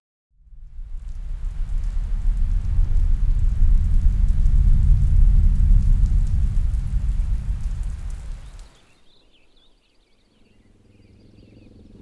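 Steady rain pours down on a forest campsite for about eight seconds, loud and close, then stops abruptly, leaving near silence with faint drips.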